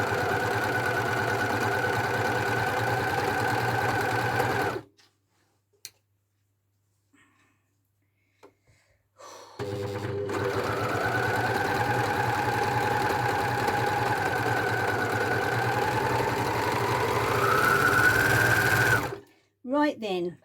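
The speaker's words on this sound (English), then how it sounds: "It's overlocking okay." An overlocker sewing machine stitches cardigan seams in two steady, whirring bursts. The first is short, and the second is longer and rises in speed, with a quiet pause between them.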